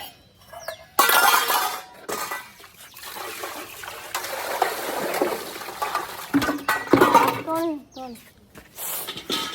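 Metal dishes clink and clatter amid running, splashing water, with people talking in the background throughout.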